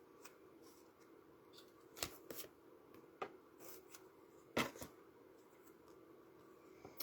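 Oracle cards spread out by hand across a surface, a soft continuous rustle and slide with a few sharper card flicks, quiet and close, with no talking.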